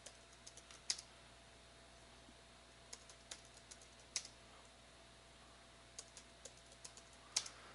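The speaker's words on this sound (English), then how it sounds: "enter the actual password that I want to use." Someone types a password on a computer keyboard in a quiet room: short, faint bursts of key clicks separated by pauses, with sharper individual taps standing out.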